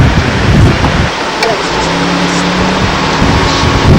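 Road rumble and engine drone from inside a car driving beside the water along a historical railway line in Tasmania, with a loud, continuous roar and occasional jolts over bumps.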